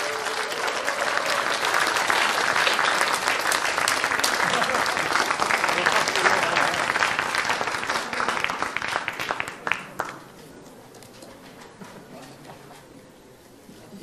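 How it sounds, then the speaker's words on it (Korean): Large audience applause at a People Power Party event greeting the newly chosen presidential candidate: loud, dense clapping that carries on steadily, then drops away after about ten seconds to a quiet room with scattered claps. "큰 박수로 환영해 주십시오."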